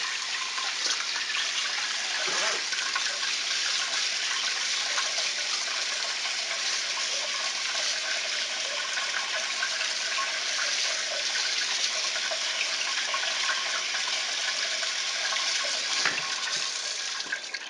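Broccoli being rinsed under a kitchen tap, with a steady, strong stream of running water pouring continuously and close by, without any talking.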